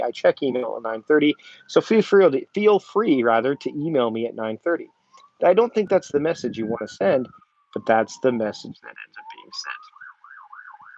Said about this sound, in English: You can hear the sirens in the background right now.